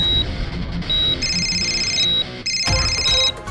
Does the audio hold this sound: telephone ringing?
yes